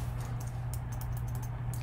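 Bracket keys on a computer keyboard get tapped in quick irregular bursts, soft close clicks over a low steady hum.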